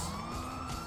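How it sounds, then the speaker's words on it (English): An ambulance siren wails in the GTA 5 video game, a steady, continuous tone that holds loud and unbroken through the short moment. "The ambulance!"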